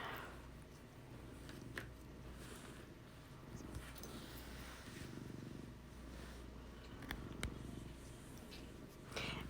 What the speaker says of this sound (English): if you hear some purring in the background, it's because one of my cats is sitting here with me